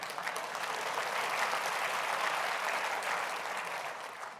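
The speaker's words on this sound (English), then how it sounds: "it's okay to applaud." A large audience at a university president's address claps in a steady, even wash of applause, fairly loud and sustained, tapering slightly at the end.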